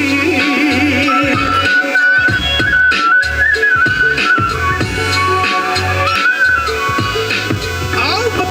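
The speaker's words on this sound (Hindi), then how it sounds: "जो हमने इसके अंदर फोकल के स्पीकर इंस्टॉल करें उसका एक बार आप आउटपुट सुन सकते हैं।" Aftermarket Focal speakers, with coaxial units in the rear, installed in a modified 2024 Mahindra Scorpio N Z4 base model play music loudly and continuously, with a bright whistling melody over a steady thumping bass line.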